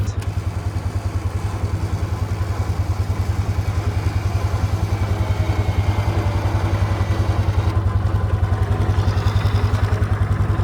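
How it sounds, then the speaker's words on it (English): A Polaris 6x6 ATV stuck off-road runs its engine with a loud, steady, rhythmic low chugging while the winch pulls the front of the vehicle up, with a faint mechanical whine over it. "All right, so it is pulling the front of the ATV. And it's pulling us up."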